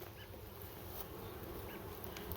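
Honeybees buzzing around a beehive on a rural property, a faint, continuous outdoor hum with the occasional closer buzz passing by, no talking.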